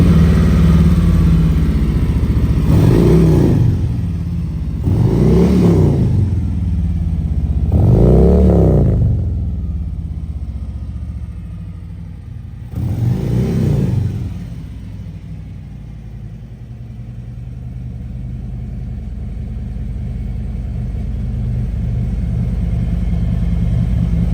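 A Harley-Davidson Road King Special (2021) with a Milwaukee-Eight engine rumbles loudly up close, revved four times in a row before settling into a steady, throaty idle.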